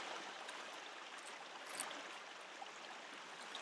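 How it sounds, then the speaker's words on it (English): A creek flows steadily with a soft broadband rush and trickle, fairly close and continuous, outdoors in Cumberland Plateau woodland with no talk. "And here's that creek again."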